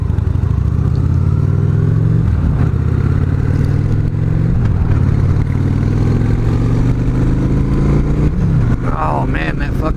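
A twin-cylinder motorcycle engine rumbles loud and steady while being ridden along a road, with a deep throbbing note that rises and falls as the throttle opens.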